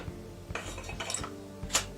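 Metal filler spoon for glass bottles being fitted onto a beer tap with a red holder, giving a few light clinks and clatters of metal and plastic parts at close range, with one sharper bright clink near the end.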